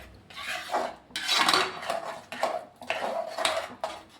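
A spoon scrapes and clatters in a pan while paneer butter masala gravy is stirred, in several close, rough bursts of a second or so each, with short pauses between.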